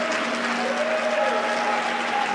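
A crowd claps steadily throughout at a wheelchair curling mixed doubles round robin match between Italy and China, the applause broad and sustained under faint tonal hum, with no speech.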